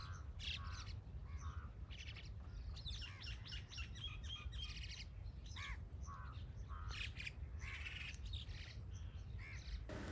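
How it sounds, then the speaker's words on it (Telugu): Migratory birds calling at Kolleru Lake, with dense overlapping chirps, squawks and caws from many birds across the whole stretch over a steady low background rumble, no talking. "సో మీకైతే పక్షులు ఇంకా దగ్గర నుంచి చూపిస్తాను చూడండి."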